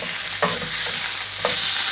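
A beef burger fries in a pan with a steady broadband sizzle, broken by two short scraping knocks from a utensil, close and fairly loud, with no voices.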